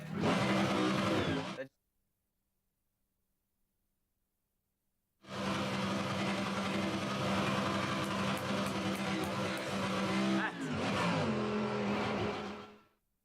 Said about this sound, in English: Rev the car more, Quade.